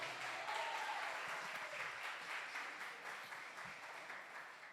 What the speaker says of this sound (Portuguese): eu já quero convidar você a levantar um aplauso ao Senhor